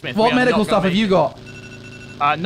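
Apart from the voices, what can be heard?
alarm ringing in a video game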